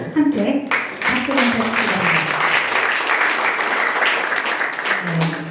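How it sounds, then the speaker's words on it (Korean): Audience applause fills a small-business networking workshop hall, steady dense clapping throughout with voices murmuring and talk underneath. "함께 박수"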